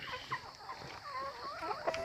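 Backyard chickens at morning feeding time cluck and call in quick, irregular bursts, close and moderately loud, with several birds overlapping throughout.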